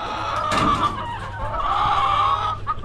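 Chickens cluck steadily inside a backyard coop, a continuous close murmur of hen calls layered over a low background hum with a brief rustle partway through.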